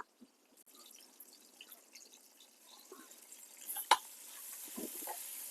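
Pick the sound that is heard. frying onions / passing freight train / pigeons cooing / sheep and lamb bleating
frying onions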